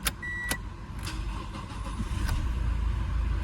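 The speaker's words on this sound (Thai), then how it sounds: "เสียงรู้สึกค่อนข้างเงียบมากนะสำหรับตัว เสียงเครื่องนะ เครื่องนิ่งมากเลยนะ" A 2017 Toyota Innova 2.8G SUV engine runs at a quiet, steady idle after starting, a low even rumble, with a couple of brief clicks and a short whine at the start.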